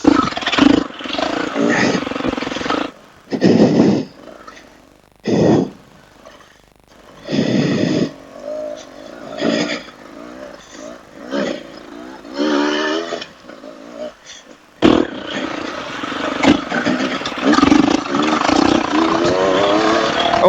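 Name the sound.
Beta 200RR dirt bike engine revving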